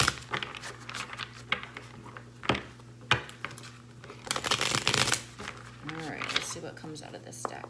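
A deck of tarot cards shuffled up close in soft riffles and flicks, with a person talking over the handling.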